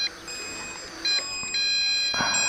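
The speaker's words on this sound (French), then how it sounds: "on a le bip pour le retrouver au cas où vous aviez perdu le signal" Several high electronic beeps sound in short bursts, some overlapping, against a quiet background with a faint mechanical whir: the lost-model locator beep of an MJX Bugs 8 Pro RC drone.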